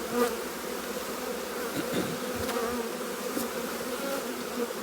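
Honey bees swarming around a new hive during installation, a dense steady buzzing hum of many insects close by, with occasional louder fly-bys of individual bees.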